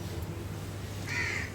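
Crows caw a few times in the morning, perched together on a single wire, a brief faint burst of calls over steady low background hum.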